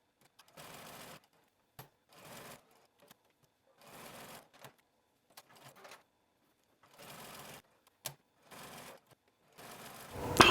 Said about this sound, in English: We're going to base the front neckline using a long stay stitch with a scant 1/4 inch seam allowance.